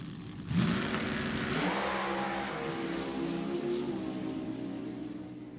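A nostalgia drag racing car launches and roars down the drag strip, a loud engine blast quickly rising then holding as it fades into the distance.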